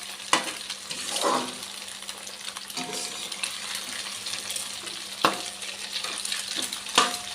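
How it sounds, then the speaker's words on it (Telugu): Egg being stirred and fried in a pan for chicken fried rice, a steady sizzle with scraping stir strokes and a few sharp clinks of utensil on pan, close and clear with no talking. "సో ఎక్కువ కదపకుండా జస్ట్ ఇలా ఇలా ఇలా బ్రష్ చేసుకుంటూ కలుపుకున్నాం."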